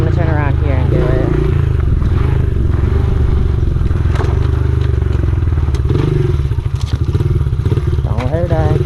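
A Honda XR70R pit bike engine labours up a steep hill, puttering and revving close by with clattering and scraping over rough ground, while a rider talks over it.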